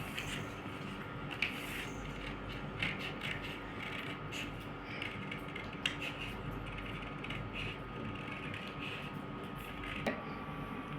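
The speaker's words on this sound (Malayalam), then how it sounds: "ഇനി നമുക്ക് ഈ സർക്കിൾ ഇങ്ങനെ കട്ട് ചെയ്തെടുക്കാം." Scissors cutting circles out of coloured paper for a honeycomb wall hanging, a steady run of close, dry snipping and creaking clicks with occasional louder snips and no talking.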